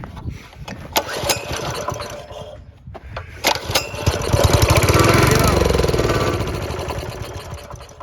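A Coyote Bullet go-kart engine, given choke, sputters through a few attempts, then catches and runs with a rough, loud, close chugging that swells and settles, with a person speaking briefly in the background.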